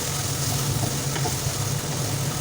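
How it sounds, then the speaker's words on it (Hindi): Boneless chicken with turmeric and spices stirred in a hot pan, giving a steady, close sizzle with soft stirring scrapes throughout. "1/2 टीस्पून इसके अंदर हम हल्दी ऐड करेंगे और इसको अच्छी तरह से मिक्स करेंगे चिकन के साथ।"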